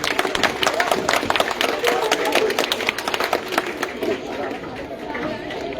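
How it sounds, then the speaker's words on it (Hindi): An audience at a school award ceremony at Iqra Central Academy in Fatehpur Shekhawati claps steadily throughout, the applause blending with loud crowd chatter and voices. "इनके लिए एक ताली हो जाए।"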